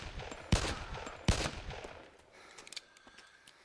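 Weapon fire in the survival video game DayZ: two loud, close shots about a second apart, each with a ringing tail, followed by fainter scattered clicks and knocks.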